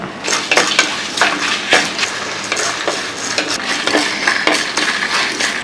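Coriander seeds, dried chilies and curry leaves dry-roast in a pan for corn rice, a spoon stirring them in loud, rhythmic scraping and rattling strokes close up, continuous throughout.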